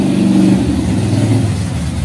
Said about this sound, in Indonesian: mohon maaf ada suara motor yang keras ya